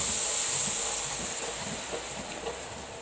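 Black coffee poured into a hot pan for red-eye gravy, giving a steady loud hiss and steam that slowly fades across the clip, with no talking.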